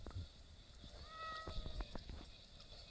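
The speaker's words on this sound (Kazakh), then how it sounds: "Мына жақта бір мысық" A cat meows quietly in a faint indoor setting, with two or three short drawn-out mews in the middle of the clip and some soft background clatter.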